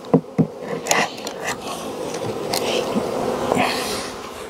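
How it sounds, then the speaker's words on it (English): Worker honey bees swarm over the frames of an open hive in southern Alabama in December, a steady close buzzing drone with a few louder passes of individual bees near the listener, and no voices. "There's plenty of worker bees."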